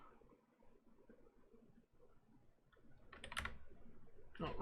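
Keys clatter on a computer keyboard in a quiet room, soft at first and then a faster, louder burst of tapping near the end, with no talk over it.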